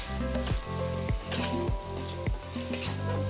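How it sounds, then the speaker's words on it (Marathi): Chicken in yogurt for homemade biryani sautés in a pan with no added water, a steady close sizzle broken by rhythmic scraping strokes of a spoon stirring. "छान परतवून घेऊया आणि याला अजिबात पाणी घालायचं नाही"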